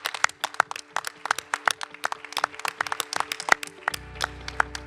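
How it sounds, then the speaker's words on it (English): Applause from an audience, a lively patter of many hands clapping close by, steady throughout with no voices. "A big round of applause for our faculty."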